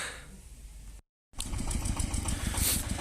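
Vehicle engine running on the road while pulling a load of brush cleared for firewood, a rough, pulsing mechanical drone with knocking beats, briefly cut off then returning steady and close.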